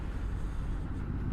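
A 2021 Triumph Street Scrambler ridden in fifth gear, its engine and exhaust a dense, constant low rumble mixed with wind and road roar, loud and close throughout.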